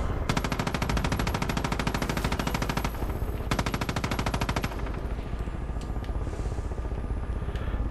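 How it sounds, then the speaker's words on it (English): Sustained rapid automatic gunfire in the video game Far Cry 5, loud and dense bursts over a steady background rumble, stopping briefly and resuming before fading into distant ambience. "I just shoot first"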